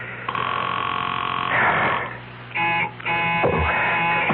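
A telephone rings in a radio drama, sounding as repeated mid-pitched electronic bursts in close succession with short gaps between them, clear and near with no talk over it.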